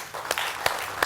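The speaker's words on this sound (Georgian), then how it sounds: "აპლოდისმენტები" A studio audience at a Georgian TV comedy game show breaks into brief applause, a steady wash of clapping with a few sharper accents over about a second.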